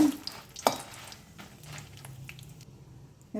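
Five Guntur red chillies fry quietly in a pan for fish curry, a soft crackle and sizzle with a few spoon scrapes and clinks, fading almost to silence near the end.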